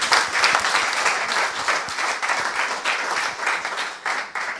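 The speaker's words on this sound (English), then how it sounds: "Can we have a round of applause for Joseph" Applause from the audience at a tech conference talk, a steady round of clapping with individual claps distinct, moderately loud and continuous throughout.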